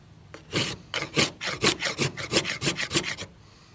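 A Mora knife's spine scrapes in a quick series of about a dozen rasping strokes, close and fairly loud, each stroke a short gritty rub in steady rhythm before stopping.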